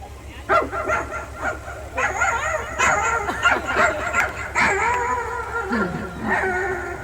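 A man imitates a puppy, producing high, whiny yips and whimpers in short bursts, close and fairly loud, with brief pauses between.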